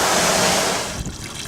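Wash water pours and trickles through poly wash pads in a short, steady rush that eases off near the end, close and fairly loud.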